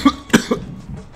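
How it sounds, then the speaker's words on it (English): A man's lingering cough, heard as two or three harsh, close coughs followed by some rough throat noise. "I gotta get this cough checked out"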